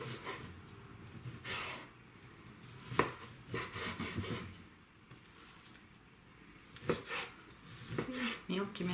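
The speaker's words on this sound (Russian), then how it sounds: "Срезаем мякоть с косточки. Так. И начинаем нарезать." A knife cuts chicken meat off the bone on a cutting board, with irregular soft scraping and a few sharp taps against the board, fairly quiet and close.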